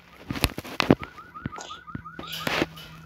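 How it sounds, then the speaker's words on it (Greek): A car alarm sounds in rapid, evenly repeated electronic chirps, moderately loud, mixed with sharp knocks and rustling nearby. "Ακούστε το συναγερμό."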